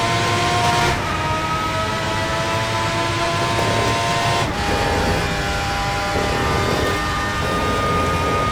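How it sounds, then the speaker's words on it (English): A screaming V12 engine of an FRX-90 race car in a sim racing game at Spa, a loud, sustained high-revving drone with gear shifts around one and four and a half seconds, no talk over it. "how good does this car sound? Screaming V12 engine."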